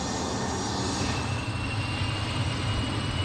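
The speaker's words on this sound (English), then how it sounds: "You are cleared for takeoff on runway 2." A jet airplane takes off from a runway at an airport, its engine roar a steady, loud, broadband rumble that holds without pause throughout.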